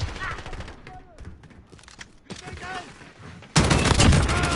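Video game shooter gunfire rings out in scattered bursts, then turns into a loud, sustained volley at the end, with someone talking between the shots.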